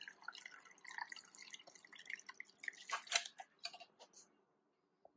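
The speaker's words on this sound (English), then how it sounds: "get yourself a sieve, a jug, or any other sort of container and just pour your stock through" Paella stock is poured through a sieve into a jug, giving a faint, close trickle and a patter of small drips that thin out and stop near the end, with no talk.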